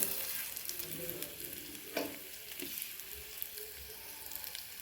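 Chana dal and urad dal sautéing in a pan as part of a chutney, a soft continuous sizzle with gentle stirring scrapes, fairly quiet and close.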